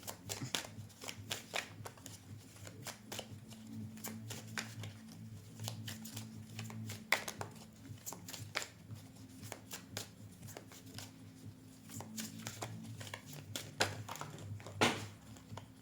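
Tarot cards being shuffled by hand, a rapid run of soft riffling flicks and slaps repeating through the whole stretch, close and fairly quiet, with a low steady hum underneath.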